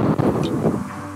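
Strong gusting wind buffets the microphone on the open roof deck of a cruise ship, a loud low rumble that swells and dips throughout.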